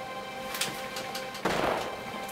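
A sharp electronic gunshot bursts from the Wii game Quick Draw Showdown, one loud crack partway through, following quieter clicking game sounds from the television speaker.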